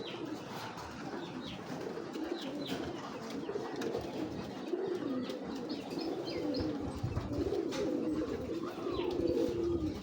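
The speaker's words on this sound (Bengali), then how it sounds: "এটা ওনার মেন কবুতর" Pigeons coo repeatedly in soft, rolling calls, with a few light chirps and ambient outdoor noise around them.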